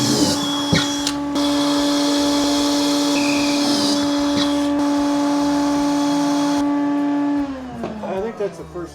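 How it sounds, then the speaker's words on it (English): A shop vacuum draws up dust from drilling while building steps for an RV hauler. It runs as a loud, steady whine with a strong hum, then cuts off near the end and spins down. "So we just vacuum up the dust."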